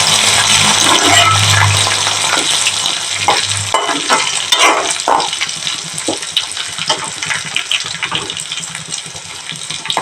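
Curry leaves dropped into hot oil for a Kerala dal and mango curry, a loud, close, continuous crackling sizzle with brief stirring knocks, fading slightly toward the end, and no voices.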